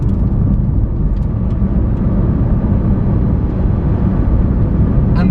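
A Lamborghini Aventador SV drives in automatic mode at low speed, giving a loud, steady interior rumble of engine and road noise without obvious revving and with no one speaking.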